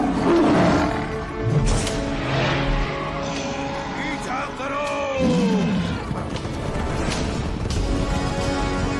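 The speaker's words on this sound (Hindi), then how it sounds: "शेर आ गया है।" Cartoon lion roars loudly in a Hindi animated chase scene, with rising and falling bellowing calls over busy music and effects, while voices shout nearby.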